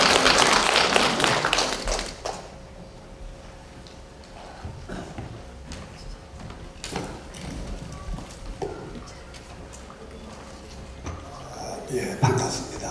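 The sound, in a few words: audience applause in a conference hall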